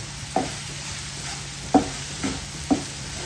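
An omelette mixture with crushed chili being stirred in a bowl, four distinct scraping knocks spaced unevenly over a low steady background hiss, no voices.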